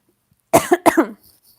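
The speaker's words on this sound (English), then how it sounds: "Sorry about my sniffles and coughs and sneezes this morning." Two sharp coughs in quick succession, close and loud, followed by silence.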